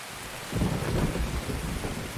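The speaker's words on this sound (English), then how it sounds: "When it's really loud rain like this, it's like so hard to like even think." Heavy rain with rolling thunder in the Escape from Tarkov video game, a dense steady downpour with deep rumbling swells, loud and continuous without talk.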